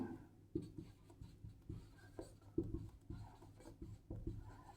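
A pen writing on paper during an accountancy lesson, with soft scratchy strokes in a quick, irregular rhythm, very faint and close, with no talking.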